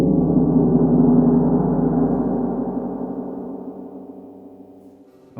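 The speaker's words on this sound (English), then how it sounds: "It's a large metal disc that we hit with a very heavy yarn mallet." A large gong-like tam tam struck softly with a heavy yarn mallet, its low shimmering hum swelling then slowly fading away over several seconds.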